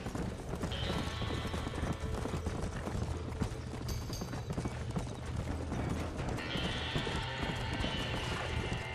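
Horses clip-clop and gallop continuously at a dense, rapid pace in Red Dead Redemption during a burning barn scene, with occasional whinnies over a steady loud wash.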